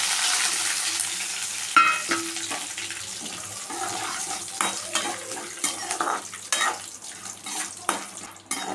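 Chillies, curry leaves and peanuts fry and crackle in a pan while a spoon stirs them, giving a hissing sizzle broken by irregular scraping knocks and louder splutters, with no voices.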